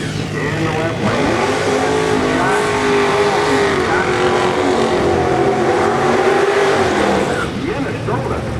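Nitrous drag race cars, including a 1991 Ford Mustang, launching side by side with a loud sustained engine roar that climbs in pitch and holds steady before easing off, under a track announcer's voice.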